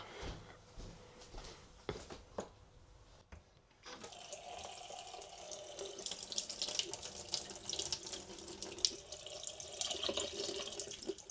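A few clicks and clatters, then a tap opens and water runs steadily into a sink, rushing and splashing continuously.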